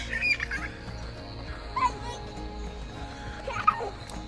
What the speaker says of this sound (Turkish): Bir ördek ya da kaz diyebiliriz.